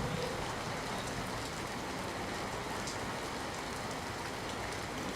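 Heavy monsoon downpour falls on the village area around Jabal in Amreli, Gujarat, as a dense, steady roar of rain lasting throughout, close and loud with no talking.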